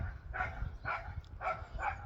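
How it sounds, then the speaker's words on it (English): Two dogs, a Jack Russell and a French bulldog, bark in turn indoors, four sharp barks spaced evenly in quick succession, fairly faint and slightly distant, with no talking. "One barks and then the other goes off."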